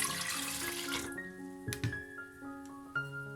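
Plain water pours into a bowl while a dipping sauce is being made with orange juice, apple and fish sauce, giving a splashing stream that breaks into gurgles and drips.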